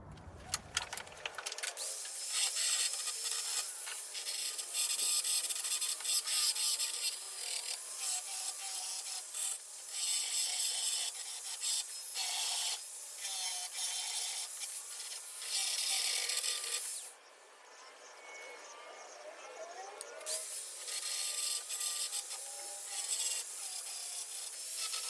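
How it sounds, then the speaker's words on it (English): Rusty steel rear window channel of a VK Commodore being ground, a harsh, steady rasping scrape that runs in long loud stretches with a couple of brief pauses, close up and with no talk. "Let's grind it and see how many holes we have."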